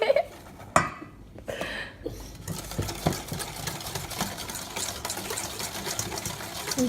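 An electric mixer whirs steadily through Halloween cake batter, a continuous motor drone with a few sharp clunks near the start.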